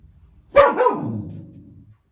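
A single dog bark rings out close and loud, followed by a trailing yelp that fades over about a second, with silence around it.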